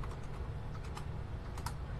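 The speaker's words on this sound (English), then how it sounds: "I can type. Typing is a thing." Quick, steady typing on a computer keyboard, a close, continuous patter of key clicks with no talk over it.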